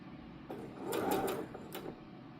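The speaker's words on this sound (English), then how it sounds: "So we continue sewing" A sewing machine stitches fabric for a scrunchie in a short, quiet burst of rapid mechanical whirring and clicking, close by with no speech.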